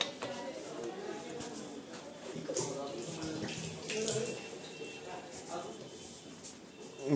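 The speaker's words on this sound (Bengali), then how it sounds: "দাও ভাই আগে জলটা ভরে নি।" Water runs from a tap into a bottle in a steady, rushing stream that shifts in tone as the bottle fills, with voices talking nearby.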